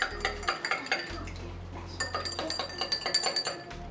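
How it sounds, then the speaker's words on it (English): A metal spoon stirring salt and sugar into two glasses of water, producing a quick run of bright clinks and taps against the glass, with a short pause before a second stretch of stirring. "I'll make a little stir for both"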